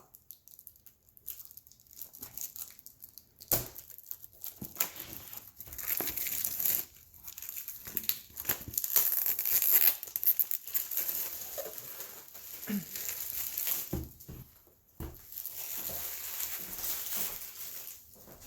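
Plastic wrapping crinkles and rustles up close as a Diamond Art Club diamond painting kit is opened, with bursts of crackling, tearing and handling noise that come and go.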